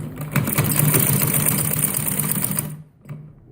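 A sewing machine runs steadily for nearly three seconds while stitching piping onto a neckline, up close and loud, then stops abruptly. A brief faint clunk follows.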